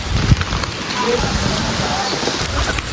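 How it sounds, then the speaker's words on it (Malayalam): Steady, dense heavy rainfall hissing across the whole clip on a cassava farm, with heavy drops pattering on a nearby surface and a few low thumps underneath. "നല്ല മഴ പെയ്യുന്നുണ്ട് കേട്ടോ"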